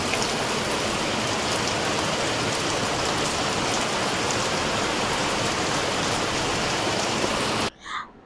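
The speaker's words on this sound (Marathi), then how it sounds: "पाणी पूर्ण भरलेलं आहे, ते दनादन पाऊस पडतोय" Heavy monsoon rain pours in the Konkan region as a dense, steady roar of water that stays loud and unbroken throughout, then cuts off abruptly near the end.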